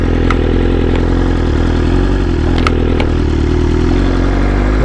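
A motorcycle engine runs steadily near the listener with a low, even rumble and a few faint clicks and clatters on top.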